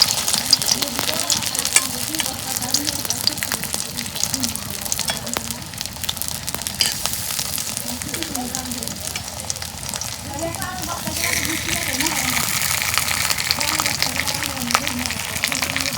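Besan-coated potato chops fry in hot oil with a loud, continuous close-up sizzle and bubbling crackle, with occasional stirring and a voice talking softly underneath.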